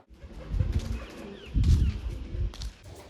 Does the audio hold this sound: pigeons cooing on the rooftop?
yes